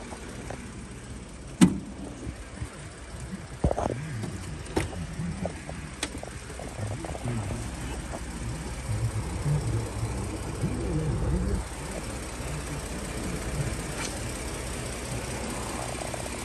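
A 2012 Ford F-150 pickup with a 3.5 EcoBoost engine runs at a steady idle, a low continuous rumble with a few clicks and thumps from the cab over it, heard close.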